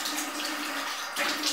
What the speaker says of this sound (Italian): Sciacquo il viso con l'acqua fredda, così mi tonifica un po'.